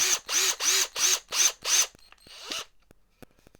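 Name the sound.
driving screws into a junk-built guitar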